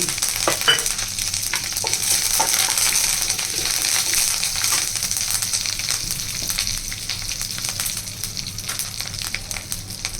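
Curry leaves sizzling in hot oil in a pan while Andhra-style greens are cooked, a loud continuous crackling fry with spatula scrapes and a few metallic clinks, and no voices.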